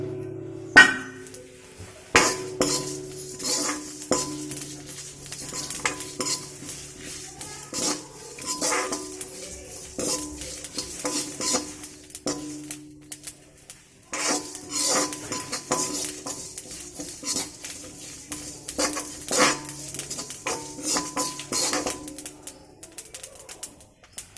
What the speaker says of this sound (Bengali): মশলাতে নিয়েছি জিরে, মৌরি, ধনে আর শুকনো লঙ্কা। এটাকে শুকনো কড়াইয়ে ভালো করে ভেজে নেব।